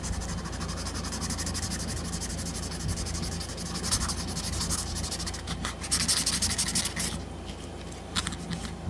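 Sandpaper rubbed by hand over the scales of an Ol' Glory knife handle, a steady close scratchy rasp with faster stroking bursts later.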